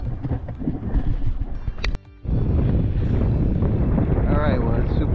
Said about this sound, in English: All right, well, it's super windy.